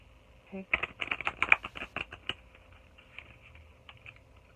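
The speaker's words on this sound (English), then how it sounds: "I'm just gonna shuffle the deck again" A quick riffle of an oracle card deck, a rapid flurry of crisp flutters lasting a couple of seconds, then a few soft taps in a quiet room.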